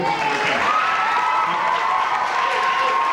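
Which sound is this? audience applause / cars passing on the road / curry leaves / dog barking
audience applause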